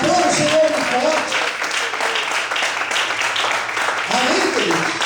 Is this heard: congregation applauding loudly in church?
yes